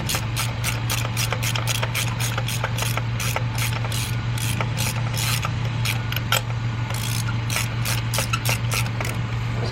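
A ratchet wrench clicks rapidly and steadily while tightening spark plugs, a close, loud run of evenly spaced pawl clicks lasting the whole stretch over a low constant hum.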